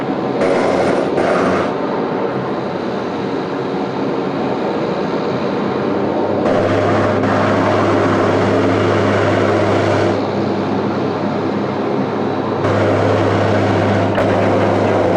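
A Dash 8 turboprop aircraft at Sydney Airport roars steadily and loudly, a constant propeller hum with a low droning tone that comes and goes, no voices.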